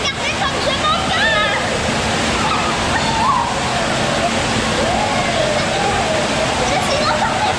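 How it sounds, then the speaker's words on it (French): Artificial waves surge and churn in a holiday park wave pool, a loud continuous roar of rushing, sloshing water close by, with faint voices mixed into the wash. "là vous avez les vagues qui commencent les amis"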